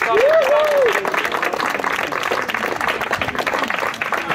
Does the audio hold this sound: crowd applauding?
yes